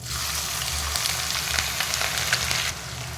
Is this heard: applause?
no